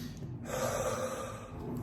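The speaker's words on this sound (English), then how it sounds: "get the patient to take a deep breath" A patient's deep breath drawn in during a chest exam at a doctor's office, a single long, close inhalation that swells midway and holds steady, with no talking.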